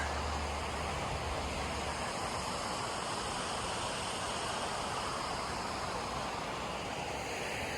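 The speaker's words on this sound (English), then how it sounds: "And then you can just hear the creek." Steady broadband rush of a creek flowing behind a cabin with a river-rock fire pit near Gatlinburg, Tennessee, a constant even wash of water with no voices over it.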